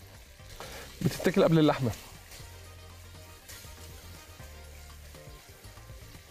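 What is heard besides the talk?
onions frying in a pan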